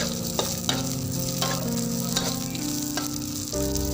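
Garlic and green chilies sizzling in a pan for a young jackfruit stir-fry, steady loud frying with a low hum underneath and occasional stirring taps.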